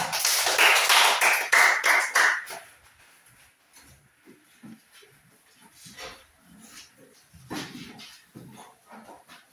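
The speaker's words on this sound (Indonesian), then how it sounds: "Tepuk tangan untuk kelompok 2." Group 2 receives applause in a classroom: a loud burst of clapping for about two seconds, then it dies away into scattered faint taps and shuffling.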